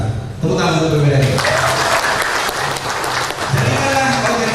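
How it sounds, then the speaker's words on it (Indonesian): A crowd at a Lampung inauguration ceremony applauds: a dense, continuous wash of clapping, with a voice speaking over it. "Tepuk tangan untuk PWRI."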